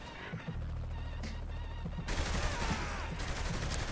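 Gunfire in the video game Saints Row: The Third, a dense, steady stream of shots that grows louder and harsher halfway through, with no talking.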